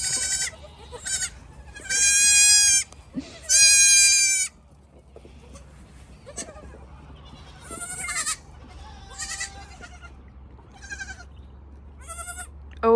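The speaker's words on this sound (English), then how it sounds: "Baby goats." Several baby goats bleat on a homestead in high, quavering cries, some long and loud, others short and scattered, over a low steady hum.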